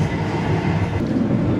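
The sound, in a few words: Argo Bromo Anggrek passenger train running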